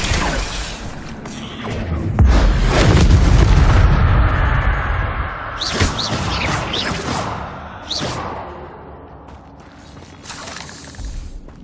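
Incendio fire spell cast in Hogwarts Legacy combat: a deep booming blast with whooshing and mechanical, ratcheting clatter, followed by several sharper bursts and swishes, loud and close.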